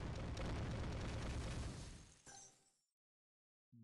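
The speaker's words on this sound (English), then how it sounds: "We'll try disco ball bomb combo." A disco ball and bomb combo goes off in the mobile puzzle game Toon Blast: a loud, dense blast roars for about two seconds, fades out with a short tail, and is followed by silence and then a brief game tone.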